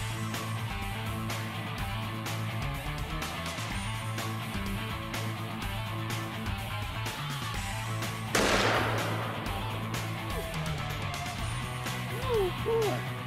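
A single powerful gunshot with heavy recoil cracks out sharply partway through, over steady low background noise, followed by a brief ringing decay.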